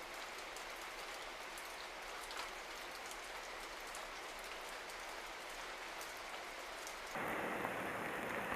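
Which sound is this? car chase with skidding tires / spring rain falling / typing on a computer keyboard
spring rain falling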